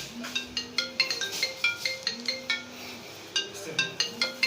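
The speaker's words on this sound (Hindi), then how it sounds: "फ़ोन आने लगा" A phone ringtone from an incoming call plays a repeating melodic pattern of bright, chime-like tones in short bursts, moderately quiet and steady throughout, with no talk.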